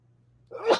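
A single sneeze bursts out near the end after a brief quiet lead-in, close and moderately loud, with a short breathy build-up.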